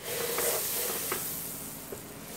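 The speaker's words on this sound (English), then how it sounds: "add about 3/4 of a stick of butter in a large saucepan" About three quarters of a stick of butter melts in a large saucepan over medium heat, giving a steady, fairly close sizzle and hiss with a few faint scraping clicks.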